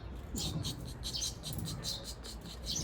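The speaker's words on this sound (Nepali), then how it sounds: "यहाँ चरा कराको" Artificial bird chirping from a device repeats in short, high, fairly faint chirps over a steady background hiss.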